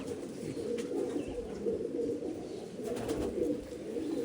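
Low, soft cooing of purple-footed Malawi pigeons murmurs continuously against a steady background hum, with no voices.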